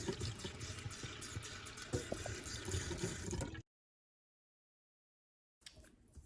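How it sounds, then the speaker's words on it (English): Tap water running into a small kitchen bowl for sealing veggie egg roll wrappers, a close, gurgling stream that fills for a few seconds, stops abruptly into silence, then briefly resumes. "fill up a little bowl with some water"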